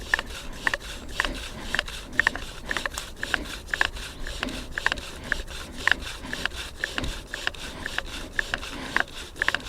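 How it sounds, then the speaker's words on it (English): A wooden bow drill spins back and forth in a collection notch, giving a quick, regular rasping and creaking of wood rubbing on wood with a steady sawing rhythm. "What I'm trying to do is drill down and create dust inside of that collection notch."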